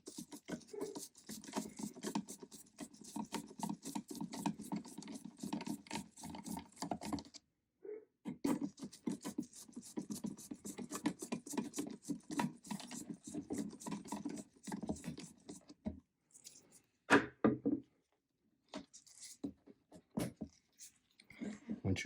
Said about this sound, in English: You start off by removing these two top screws right here. They are Phillips screwdriver